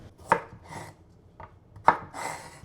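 A knife chops through a whole unpeeled carrot on a cutting board, two pairs of crisp, close cuts spaced about a second apart, with no talking.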